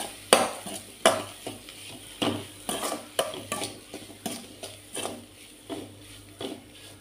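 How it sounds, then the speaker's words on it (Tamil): Fried eggs being mixed into a sizzling masala in a pan for egg curry: a quiet, steady sizzle broken by a regular run of spoon scrapes and taps against the pan, close up. "சேர்த்துட்டு மசாலாவோட நல்லா மிக்ஸ் பண்ணிக்கலாம்"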